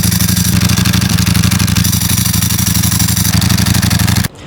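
A Ducati Panigale V4 25th Anniversary motorcycle engine roars loudly and steadily at high revs for several seconds, then cuts off abruptly near the end.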